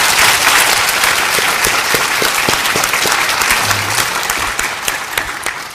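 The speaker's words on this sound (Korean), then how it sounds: "박수 한번 해드리세요" A church audience applauds steadily for a visiting Baptist college vice president and his wife, dense clapping holding at a constant level for several seconds before easing slightly toward the end.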